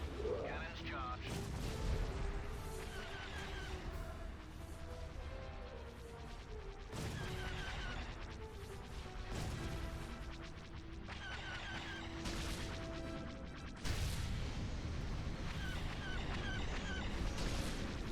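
Cannon fire in the Star Wars Empire at War space battle game, with repeated heavy blasts and crashing impacts in bursts over roughly eighteen seconds, alongside game effects and brief voice lines.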